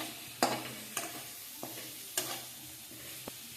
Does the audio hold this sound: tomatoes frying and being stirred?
yes